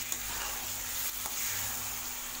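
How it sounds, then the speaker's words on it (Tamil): Tomato paste sautéing in a pan of chicken gravy with yogurt, a steady close sizzle and hiss running throughout with faint spoon scrapes and no talking. "தக்காளியும் நல்லா வதக்கி விடுங்க."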